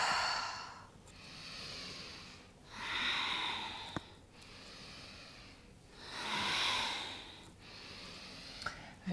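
Slow, airy breathing during a gentle yoga practice, several long, soft breath cycles swelling and fading at an even pace, close and quiet, with no speech.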